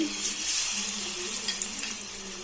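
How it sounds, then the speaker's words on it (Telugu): Marinated prawns frying in hot oil, a steady close sizzle throughout with light stirring, fairly quiet and with no talking. "ఇప్పుడు మనం బాగా కలిపి పెట్టుకున్న రొయ్యల్ని ఆయిల్లో వేసుకోవాలండి."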